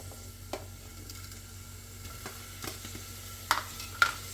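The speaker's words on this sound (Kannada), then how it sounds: "ಈರುಳ್ಳಿ, ಟೊಮ್ಯಾಟೊ, ಪನ್ನೀರು ಮತ್ತು ಬಟಾಣಿ ಎಲ್ಲದನ್ನು ಸ್ವಲ್ಪ ಎಣ್ಣೆಯಲ್ಲಿ ಫ್ರೈ ಮಾಡ್ಕೊಳ್ಳಿ" Onion, tomato, paneer and peas fry in a little oil for Indian tomato bath, giving a faint, low sizzle broken by a few sharp clinks of a spoon against the pan.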